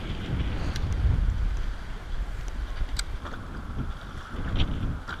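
Strong wind buffets a microphone during a morning of kayak fishing off South Florida, a steady low rumble with gusts swelling and easing throughout, joined by faint splashes and clicks on the water.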